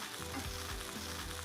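Slices of eggplant frying in oil in a pan while cooking a Sicilian eggplant Parmesan, a steady close sizzle and crackle with soft bubbling, heard alone without talk.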